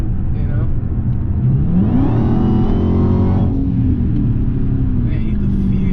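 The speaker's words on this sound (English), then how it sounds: "You can just feel the whole power of the car." A Dodge Hellcat fitted with a Legmaker intake accelerates hard, with a rising supercharger whine sweeping upward over a loud engine roar before easing off as it shifts and keeps pulling, all close up.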